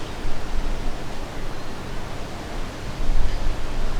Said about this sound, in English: The wind has died down a little bit.